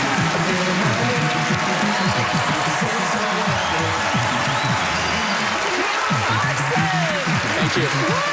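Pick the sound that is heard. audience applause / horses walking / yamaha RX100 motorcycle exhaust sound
audience applause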